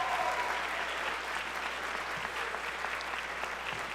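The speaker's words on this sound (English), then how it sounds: "So give them a round of applause." An audience in a school concert hall claps steadily for band students, a dense, even applause that carries on for the whole stretch.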